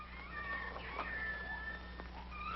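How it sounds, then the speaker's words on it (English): A baby lion cub gives growling, meow-like cries, continuous and fairly close for a few seconds over a low steady hum. "That's just a little baby lion."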